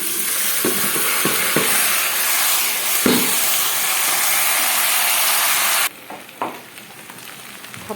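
Rice is sautéed with browned vermicelli in a pan, giving a loud, dense sizzle with scraping stir strokes. The frying drops to a quieter crackle in the last couple of seconds.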